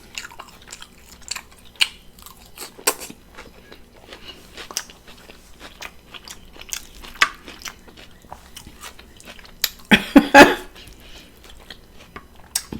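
Ribs are chewed and eaten up close, with scattered wet bites and crunches, a soft steady background, and a louder burst of crunching near the end.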